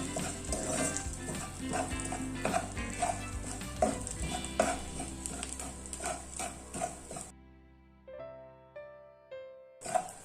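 Pieces of idli fry and sizzle in a pan while being stirred with scraping, clicking strokes. The sizzle is fairly soft and drops away near the end, leaving a few light taps.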